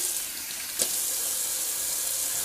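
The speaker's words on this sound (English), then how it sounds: "I'm going to rinse it off." A tap runs steadily at a sink while alum is rinsed off a face after shaving, a soft continuous hiss of water with a brief splash partway through.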